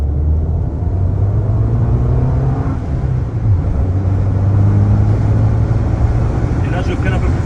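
A Fiat 500 Abarth F595 in sport mode accelerates with a steady, loud engine drone whose pitch rises and shifts between gears, heard from inside the car with someone talking over it.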